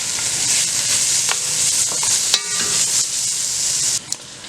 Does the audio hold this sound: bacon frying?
yes